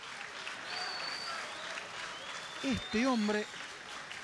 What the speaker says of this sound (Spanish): los aplausos para Chancalay